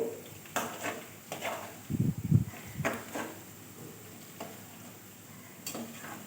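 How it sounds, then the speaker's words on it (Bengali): Boondi, small drops of gram-flour batter, frying in hot oil over a high flame, giving a soft steady sizzle with a louder bubbling burst midway and scattered light clinks of a utensil against the pan. "তো হয়ে গেছে আমার এই বুদেটা ভাজা আমি তুলে নিচ্ছি"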